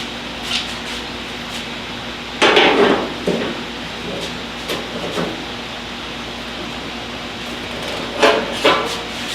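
Metal clanks and knocks come from a bent Lynx grill part being straightened, a few separated impacts and rattles over a low steady hum, with two louder clusters and no talk.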